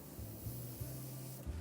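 An airbrush sprays paint unevenly onto a Saab 105 scale model, likely from a blockage or excessive air pressure, giving a steady close hiss broken by several sputtering bursts.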